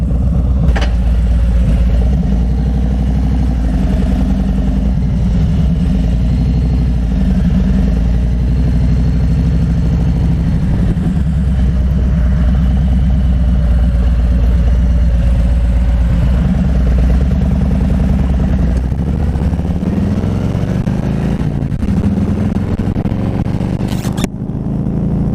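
A tuned Harley-Davidson motorcycle rides toward a gas station, its engine a steady, loud low rumble that runs throughout, with some clatter and road noise and no talking.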